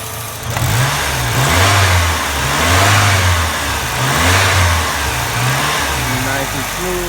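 A Saab 900 Commemorative Edition idles after a cold start, a steady low engine rumble that swells and eases in slow waves as it is blipped, loud and close with broad exhaust hiss.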